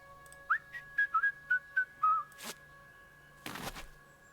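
A tune is whistled in the Trüberbrook adventure game as a quick series of about seven clear, short notes, followed by two sharp knocks with a brief pause between them.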